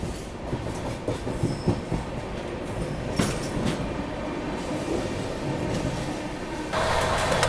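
Bihar Sampark Kranti Express running at speed while crossing the Seemanchal Express, with steady loud rumble and clickety-clack of wheels on rail, rising into a denser roar near the end.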